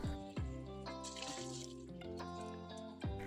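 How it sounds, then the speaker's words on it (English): Cleaning solution poured out of a burnt pot into a kitchen sink, a steady close splashing stream with several sharp thuds and clanks of the pot against the sink. "I pour the solution out of the pot."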